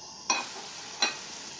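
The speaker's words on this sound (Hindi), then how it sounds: "आपने इसको अच्छी तरह भून लेना है" Kebabs frying in masala gravy in a karahi: a gentle sizzle broken by two distinct, crisp strokes of a spoon scraping through the pan, spaced about a second apart. No talking.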